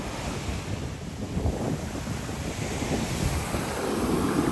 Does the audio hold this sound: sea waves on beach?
yes